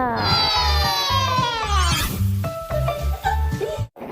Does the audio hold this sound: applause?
no